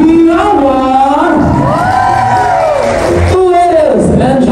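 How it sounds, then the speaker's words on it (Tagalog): Wedding guests at an evening reception cheer and shout together in a loud, sustained crowd roar, whoops and bellowing voices rising and falling, with little distinct clapping standing out. "magpalakpakan na may kasamang hiyawan."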